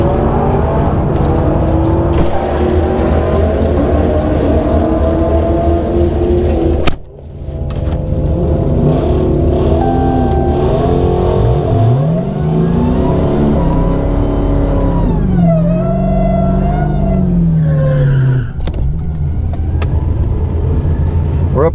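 A drag race car at a Mopar event launches and accelerates down the track, its loud engine roaring through rising gear sweeps, a sharp break near the middle, then further revving pulls and shifts close by.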